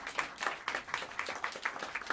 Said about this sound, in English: Help me to welcome them to the stage with some warm applause in the rhythm section.